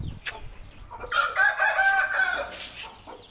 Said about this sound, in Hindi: ये आ गई हमारी मुर्गी